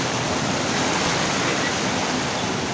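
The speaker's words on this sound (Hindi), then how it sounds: "ये देखिए ये पानी की लहरें देखिए आप" Floodwater surging as waves through a city street that has turned into a river, a steady, dense rushing and churning wash filling the whole stretch without a break.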